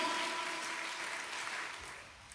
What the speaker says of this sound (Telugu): కొట్టండి చప్పట్లు మరి, అడిగే దెబ్బలు కొట్టండి.